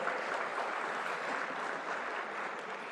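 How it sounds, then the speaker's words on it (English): Audience applause at a Hindu congress gathering welcoming a speaker, a continuous even wash of clapping from a large hall crowd, steady and moderately loud without pauses. "Please welcome him with a round of applause."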